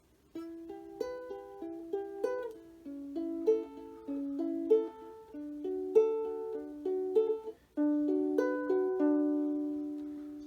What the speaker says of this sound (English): So now I'm going to play the chords along with the finger plucking.